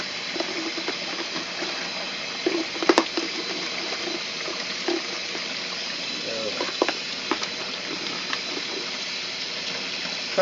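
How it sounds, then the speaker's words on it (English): A Maytag A50 washing machine tub fills with water in a steady, close rushing gush, with a few faint clunks and a voice talking quietly over it. "I'm letting you at least see this here fill up"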